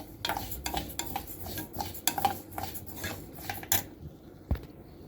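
Chicken stirred in a dry pan without oil, a metal utensil scraping and clinking against the pan in quick irregular strokes, close and fairly quiet, with a faint sizzle underneath.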